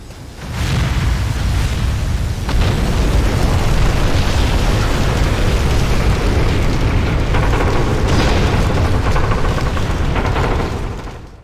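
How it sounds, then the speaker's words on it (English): A captured particle cannon destroys a US carrier in the Command and Conquer Generals video game: a long, loud rumbling blast rolls on with crackling bursts and pops for about ten seconds before it drops away. "the captured particle cannon was fully powered and charged, and the GLA used it to destroy the nearby US carrier."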